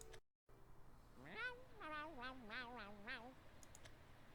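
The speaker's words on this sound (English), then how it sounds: "Is that a cat?" A cat meows repeatedly in the Shadowverse video game, a run of five or six clear, wavering cries close up, followed by a few faint clicks.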